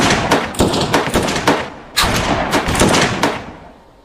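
A five-round group of gunfire, fired as a target-shooting demonstration, sounds as a quick series of loud, sharp cracks. Each shot comes close behind the last, with a brief pause midway, then the shots fade out.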